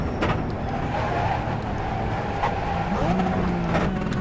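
In a racing video game, a race car's engine drones loudly and steadily while its pitch wavers and dips as a manual gear shift is missed. The engine sound carries on without a break.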